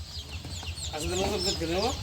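Desi chickens cluck repeatedly on a farm in Sherpur, a cluster of short overlapping calls rising midway over low background rumble, fairly close and moderately loud.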